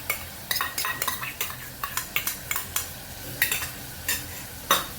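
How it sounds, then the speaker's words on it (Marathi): Yogurt being sautéed in a pan for veg pulao: repeated sharp scrapes and stirring clinks of a spoon against the pan, spaced irregularly over a soft, steady sizzle, with no talking. "चांगलं परतून घेऊया."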